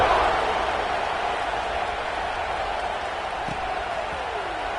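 A stadium crowd roars steadily at a college football game in the video game College Football 26, as a broad, sustained wash of noise that fades slightly over several seconds.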